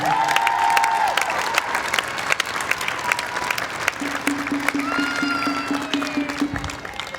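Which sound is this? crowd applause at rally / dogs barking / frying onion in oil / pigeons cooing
crowd applause at rally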